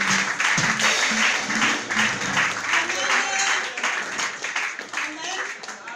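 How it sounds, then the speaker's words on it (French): A church congregation claps and cheers in sustained, lively applause, with voices and music mixed in around it. "Acclamons pour le Seigneur."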